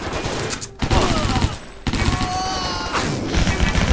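Loud rapid bursts of gunfire with booming impacts in the video game Stranglehold, crowded together in quick succession and nearly continuous over a few seconds.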